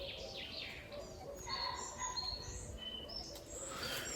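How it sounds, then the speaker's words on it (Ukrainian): Birds chirping and trilling outdoors, several short high calls scattered over a steady low background hum, fairly faint. "Ви тільки послухайте, як пташки співають."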